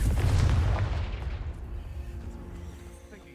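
A Confringo fire spell explodes in Hogwarts Legacy, a loud booming burst with a rumbling low body that fades slowly over a few seconds.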